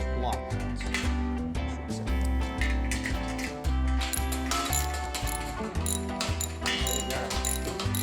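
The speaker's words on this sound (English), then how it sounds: "So you gotta use the ratchet." A hand ratchet tightens lock nuts on a workbench, giving quick bursts of rapid clicking close by, repeated in short strokes, with occasional talk alongside.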